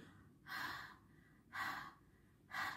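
A voice imitates panting, giving three evenly spaced breathy huffs like a tired runner's breath and the letter H sound, each about half a second long, close and fairly quiet, with short pauses between them.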